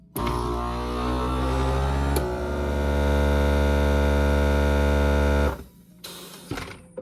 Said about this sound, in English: turn on your vacuum sealer and turn on accessory